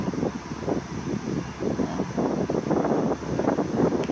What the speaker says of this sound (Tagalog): Tsaka mahangin dito.